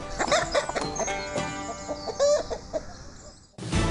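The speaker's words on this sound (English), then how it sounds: "Kev, the psychic chicken from Kiev" Kev the chicken clucks in a busy run of nearby calls and squawks over outdoor background noise, cut off abruptly near the end by a different burst of sound.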